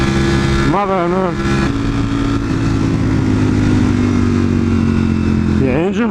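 A Ferrari engine drones loud and close at steady revs, with rising and falling rev sweeps near the start and again at the end as it slows under engine braking.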